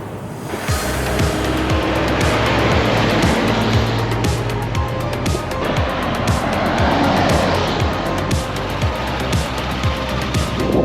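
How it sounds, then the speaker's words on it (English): A 1948 Lincoln Continental's engine runs steadily and close through a test drive, a continuous drone with road and wind rush that holds loud and even from start to finish, with no voices. "the best part is how smooth the motor is"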